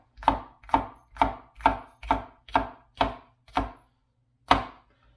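A knife cuts the ends off vegetables on a board in nine crisp, evenly spaced chops, close and clear, with a short pause before the last one.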